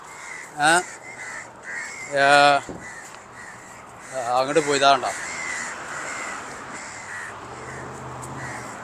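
Crows cawing nearby in Kuwait, three or four harsh bursts of caws spaced a second or two apart, with a person speaking between the calls.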